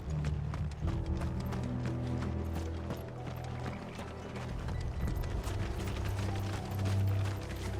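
Steady clip-clop of horse hooves trotting along in Final Fantasy XVI, a continuous rhythmic clatter with some mechanical rattling in the background.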